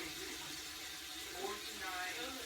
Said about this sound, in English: rinse the leaf, try to get it to lay flat, snip off another leaf, rinse it